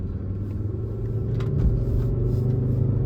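A 2011 Volvo C30 R-Line with a turbo engine is driven on the road, its low engine drone and road rumble steady and fairly loud inside the cabin, swelling slightly midway, with no voices.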